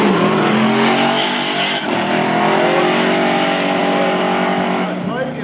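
An F-250 pickup and a Chevy S10 launching side by side at a drag strip, engines roaring loud and sustained with tire noise, a track announcer talking over the racing.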